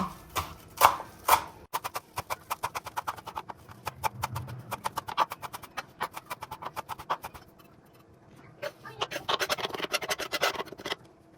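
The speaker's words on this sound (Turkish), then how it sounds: "maydanozlarımı da yine ince ince doğruyorum şimdi" Finely chopping parsley with a knife on a board: rapid, crisp, rhythmic taps in quick runs, close and clear, pausing briefly before another burst of chopping.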